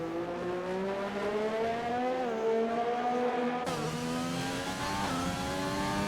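Onboard engine of a McLaren Formula car in a racing video game at the Chinese Grand Prix, a loud, continuous high-revving whine climbing through the gears with a sharp shift partway through, no voices over it.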